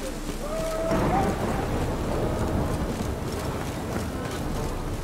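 Steady heavy rain pours throughout in The Witcher 3: Wild Hunt, with low rumbling thunder rolling beneath it; no voices.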